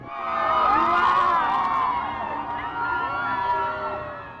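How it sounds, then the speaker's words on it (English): A large crowd in Mexico cheers for Pope Francis after he thanks them for their warm welcome, a sustained wash of shouts and whoops that swells early and holds steady throughout. "The crowd also cheered when Pope Francis thanked them for giving him such a warm welcome"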